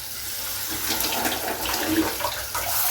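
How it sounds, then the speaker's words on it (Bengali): Water poured into a cooking pot of spiced pigeon curry, a steady, close splashing and gushing that runs for about three seconds with no talk. "আর একটু পানি দিয়ে"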